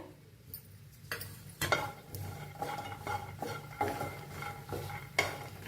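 Peanuts and coconut dry-roasting together in a pan, stirred with a metal utensil that scrapes and clinks in a loose, repeating rhythm, fairly quiet and close with a faint sizzle beneath.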